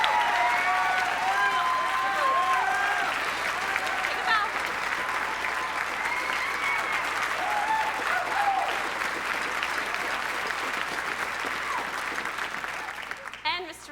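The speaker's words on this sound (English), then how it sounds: "Let's give him a round of applause." Sustained audience applause and scattered cheers at a school production of The Pirates of Penzance, a steady wash of clapping that slowly fades toward the end, with some chatter mixed in.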